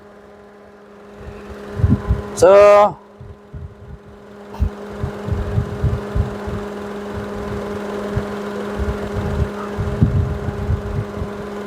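A Perodua Viva 1.0 radiator fan motor runs with a steady hum under a workshop, with a brief sharp squeal near the start and short bursts of talk.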